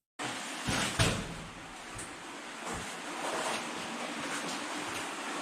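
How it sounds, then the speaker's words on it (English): Water in a cave, a steady rushing wash like surf with a few hollow knocks early on, continuous and moderately loud with no speech. "I hear the sound of water."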